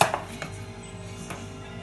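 Blondie batter with egg whites being mixed in a bowl, a few quick scraping knocks of the spoon against the bowl at the start, then a softer steady swishing.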